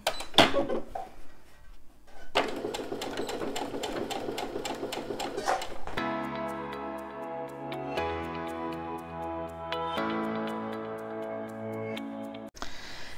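A sewing machine stitches fabric at a 2.5 mm stitch length for a Moon pouch, running in steady rapid bursts of even needle clatter with short pauses and a change in speed, close and alone without talk.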